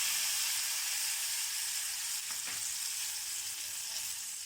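Hot tempering poured into raw mango pachadi gives a steady, loud broadband sizzle that holds for several seconds and fades slightly toward the end, with no voices.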